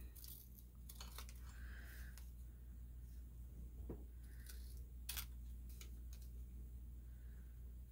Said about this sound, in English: I'm just using the scissors and the template to trim that.